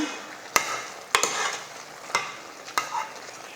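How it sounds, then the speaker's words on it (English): Ingredients for a one-pot lasagna are tossed in the pot. A steady close sizzle is broken by four sharp clattering stirs, with no talk. "I'm just going to give it a quick toss to make sure that nothing is burning at the bottom of the pot"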